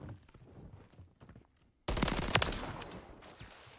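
Rapid automatic fire from the Classic ACR rifle in the video game MW3, a loud burst of shots after a quieter stretch of low game ambience.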